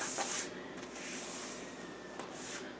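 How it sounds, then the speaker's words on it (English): Metal spatula scraping excess icing off a cake board while crumb coating a cake, soft close rubbing strokes with a few brief scrapes, quiet and with no talk. "I'm going to use my spatula and just lift up the extra icing that's laying on the board"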